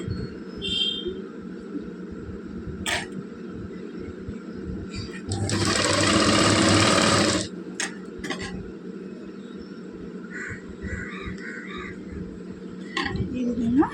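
A sewing machine stitches thread piping onto fabric in a loud, steady whirring run of about two seconds, framed by clicks, handling noise and a person talking before and after.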